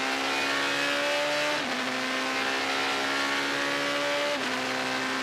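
Dodge Viper race car on a road-racing circuit accelerating hard down a straight, a loud steady engine roar climbing in pitch with two brief dips at upshifts, heard alone and close.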